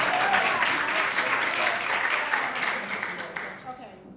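A crowd applauds with dense, sustained clapping that gradually thins out toward the end, with voices mixed in underneath.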